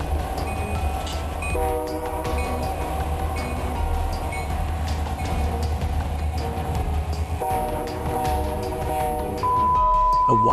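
A train rolls along railway tracks with a low steady rumble, sounding repeated tonal horn blasts over the continuous roar of the cars.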